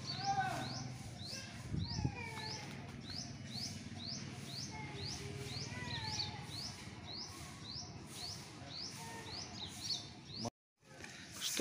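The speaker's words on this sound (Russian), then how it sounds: "Птички поют." Small birds sing on warm temple grounds in Sihanoukville, Cambodia, with a quick, regular series of high chirps repeating over a steady outdoor hum. A short dropout near the end briefly cuts the sound.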